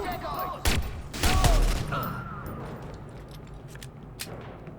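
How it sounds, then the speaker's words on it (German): Bursts of gunfire in the Watch_Dogs video game, a couple of loud close volleys with sharp shots trailing off, with voices talking faintly underneath. "Wir schießen."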